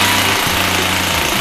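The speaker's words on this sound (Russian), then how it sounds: "Перфоратором в стене делаем 2 аккуратненьких отверстия." A rotary hammer drills a hole in a wall to mount the fixing for a Bavaria stove-fireplace. The drilling is a loud, steady, close-up hammering roar that runs the whole time, with no pause.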